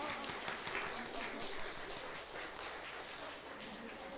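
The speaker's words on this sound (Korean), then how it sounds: "박수." Congregation applauding in a church, a faint, dense and even patter of many hands clapping, held steady throughout.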